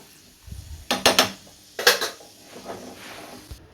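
A spoon scrapes and clinks against a pan in a few quick bursts, followed by softer rustling as fried raisins are tipped into a pot of jackfruit payasam.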